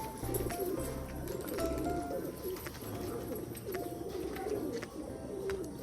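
Domestic pigeons coo softly and repeatedly nearby, their low throaty calls overlapping in a steady rhythm over light background noise.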